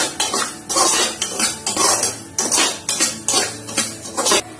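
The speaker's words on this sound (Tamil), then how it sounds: "ரவையில நெய் போட்டு நல்லா வறுத்துருங்க" A metal spoon scrapes and stirs rhythmically around a pan of semolina roasting in ghee, about a dozen repeated strokes over a faint background sizzle, close and clear.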